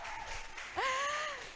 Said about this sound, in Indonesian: Wah tepuk tangan lagi dong biar semangat ya